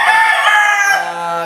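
A gamefowl rooster crows loudly and close by, one sustained cock-a-doodle-doo that trails off, with no other sound around it.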